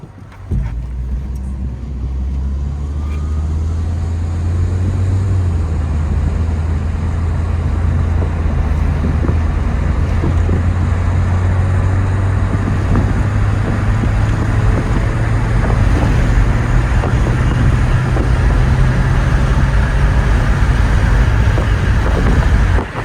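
Saab 9-3 project car with a newly fitted engine and transmission pulling out onto a street, a steady low engine drone and road rumble heard from inside, with the pitch rising gradually, no talking.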